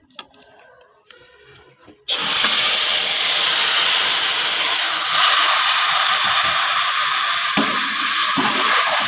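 Sugar syrup poured into hot ghee spiced with cardamom for Punjabi suji makhandi halwa. A quiet start gives way to a sudden loud, steady hissing sizzle that carries on to the end.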